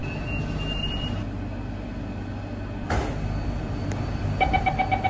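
A Mitsubishi Crystal Mover automated people-mover train rolls into an airport transit station platform with a low, steady rumble and hum, a sharp clunk partway through, then a rhythmic series of chimes or beeps near the end.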